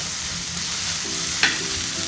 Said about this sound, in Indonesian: Aduk-aduk dulu ya bumbunya biar matang dan harum